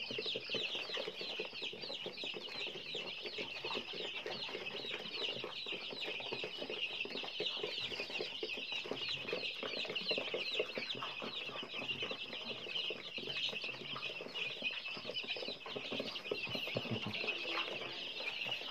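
A Lai Chọi crossbreed fighting chicken with a striped head, kept free-range, gives continuous clucks and chirps, close and busy throughout.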